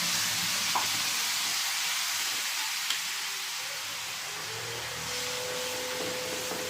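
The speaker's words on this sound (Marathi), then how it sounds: "आणि याला छान असं तेल सुटेपर्यंत परतून घ्यायचं" Ground spice paste with red chili and black masala fries in oil for a drumstick curry, producing a constant soft hissing sizzle with faint stirring, quiet and without voices.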